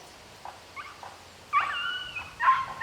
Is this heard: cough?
no